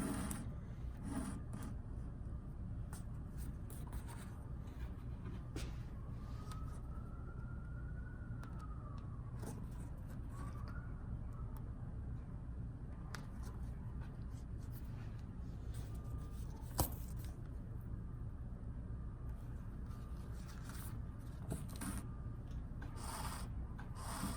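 A book signature sewn by hand with needle and thread for a flat-back text block: soft, steady rubbing and rasping of thread drawn through paper, faint and close, with a distant siren wailing briefly in the background.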